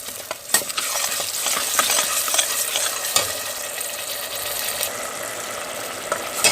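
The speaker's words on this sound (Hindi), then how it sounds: "अब हम ब्लेंड किए हुए प्याज दोबारा उसी ऑयल में डाल देंगे जिसमें हमने प्याज फ्राई किए थे" Blended onion paste fries in hot oil while being stirred, a busy close sizzle broken by repeated scraping and clacking strokes of a spoon against the pan.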